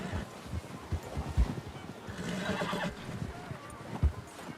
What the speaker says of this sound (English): Vou amarrar nosso cavalo aqui